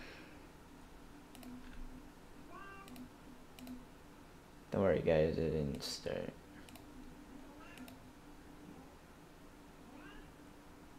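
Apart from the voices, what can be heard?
cat meowing at a door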